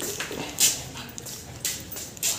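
Pet dog Goldy gives a few short, close whimpers and yips in a home, spaced out over a couple of seconds with no talking.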